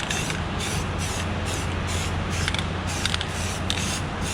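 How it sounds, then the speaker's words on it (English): Aerosol black paint hisses in repeated short bursts onto mini truck wheels and rotors, close and loud, with brief pauses between each spray pass. "and then we're gonna spray them black."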